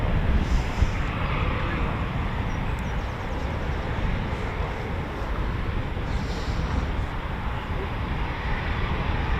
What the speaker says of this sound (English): More Typhoons taxiing as well.